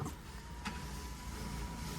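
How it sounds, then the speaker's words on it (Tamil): A car's power window being raised, a low steady electric motor hum under cabin rumble, with a brief click partway through and no voices. "கண்ணாடியை ஏற்றி விட்டுக்குங்க"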